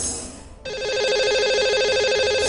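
Telephone ringing as a call goes out to a live caller on a television program: a short pause, then a loud, continuous warbling electronic ring that holds steady to the end.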